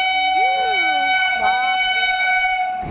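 A through train passes a station, its loud sustained multi-tone horn blaring steadily with a wavering pitch throughout, close by and dominating, with a voice briefly audible beneath.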